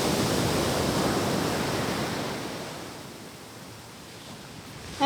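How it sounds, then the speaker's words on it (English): Large waves break on an empty beach, a close broadband wash of surf that surges and then slowly recedes, followed by a brief sharp sound at the very end. "But here it's massive waves and it's very beautiful."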